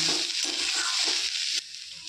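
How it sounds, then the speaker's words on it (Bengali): Lentils and banana stem being stirred in a pan over the heat, a steady sizzle with scraping spoon strokes, close and fairly loud, easing off near the end. "2 মিনিট পর ফিরে এসে আমি ঢাকাটা খুলে নাড়াচাড়া করে দিচ্ছি।"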